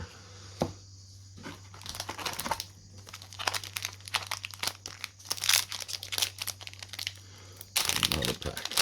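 A Digimon card booster pack wrapper is crinkled and torn open close up in bursts of sharp plastic rustling, with a steady low hum underneath and a louder rustle near the end.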